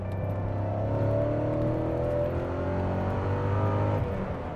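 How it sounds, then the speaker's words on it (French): A Porsche 928 GT's V8 engine rumbles steadily with a deep, throaty growl, holding a constant drone close by with no talking. "le son que ça fait ce V8 là, j'ai l'impression d'être dans une américaine"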